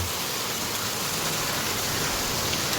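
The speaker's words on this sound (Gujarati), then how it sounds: "તમે જોઈ શકો છો મસ્ત મજાનો મિત્રો વરસાદ આવે છે" Dense, steady rain hisses without a break, a heavy downpour with ongoing wind close by, with no voices.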